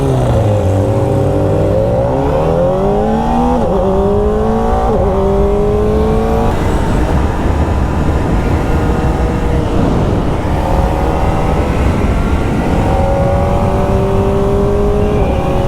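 A Kawasaki ZX-4R SE motorcycle races a Honda Super 4. The engine note is loud and close, its pitch climbing through the revs in repeated rising sweeps with shift breaks, under steady wind rush.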